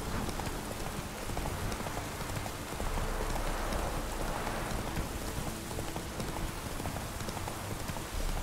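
Horse hooves clip-clop steadily through rain in The Witcher 3, a faint even rhythm beneath a constant hiss of rainfall on the ground.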